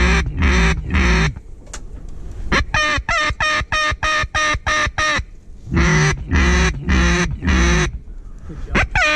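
Ducks quack loudly and repeatedly nearby during a duck hunt, a rapid run of harsh calls in bursts with brief pauses between them.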